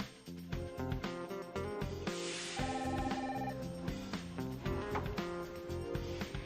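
A telephone rings at a hotel front desk, its bell repeating steadily for several seconds, fairly loud and close, with no talking over it.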